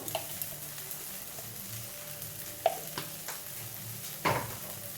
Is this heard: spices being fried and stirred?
yes